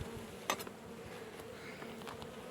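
Honeybees buzz around a healthy hive, a close steady hum with individual bees droning past, fairly quiet with no talk.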